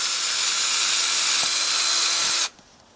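A power drill bores holes into a gardening container, a loud steady high whine running close for over two seconds before cutting off abruptly.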